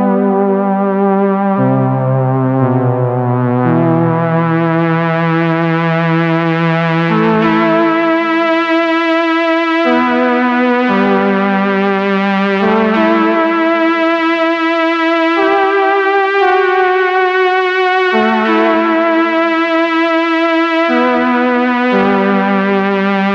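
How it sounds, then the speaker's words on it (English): A synthesizer plays a slow sequence of sustained, overlapping notes through a ping-pong delay, each one trailing off in repeating echoes that smear into the following notes. "And a bit of ping-pong delay."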